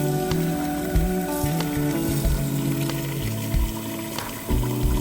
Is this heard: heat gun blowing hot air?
no